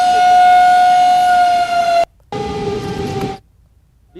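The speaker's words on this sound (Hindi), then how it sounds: "ये कई किलोमीटर दूर तक सायरन की आवाज़ इसकी सुनाई देती है।" A loud, steady dam warning siren at Bisalpur Dam in Rajasthan wails on a sustained tone before the gates open, cuts out briefly, then sounds again more faintly before stopping.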